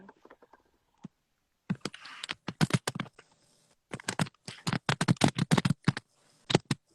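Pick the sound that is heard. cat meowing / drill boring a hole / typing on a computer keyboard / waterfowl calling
typing on a computer keyboard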